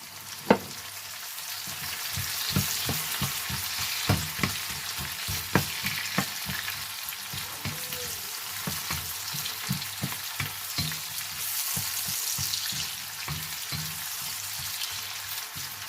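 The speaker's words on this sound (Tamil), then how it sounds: "இப்போ வெங்காயம் ஒரு கொஞ்சம் வதங்கி வர வேணும்." Onions and two green chilies frying in a pan for tuna noodles, a steady close crackling sizzle throughout, punctuated by frequent light scrapes and taps of a spoon stirring against the pan.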